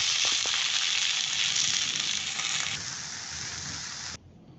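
Okra and potatoes frying in a pan with salt and turmeric give a steady, close sizzle that holds fairly loud, then drops off abruptly near the end to a faint hiss.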